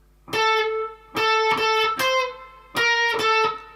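Distorted electric guitar runs through the second bar of a riff, a handful of punchy sustained notes in a quick uneven rhythm, near and loud with nothing else audible.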